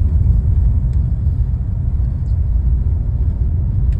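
A Chery Tiggo 5x Pro Comfort's engine holds a steady low-RPM rumble, around 1,500 RPM, climbing a steep uphill dirt road from Bitbit River, loud and continuous with no talk.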